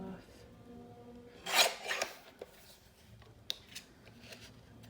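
Black cardstock is cut by hand for a 12x12 scrapbook layout, giving a brief rasping burst of blade through paper, followed by faint rustles and small taps close by in a quiet room.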